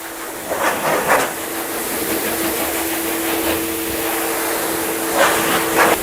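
A hot air blower dries a freshly washed Dodge car with a steady, loud rushing hiss and a faint humming tone underneath. It keeps going without a break, with slight surges in the airflow.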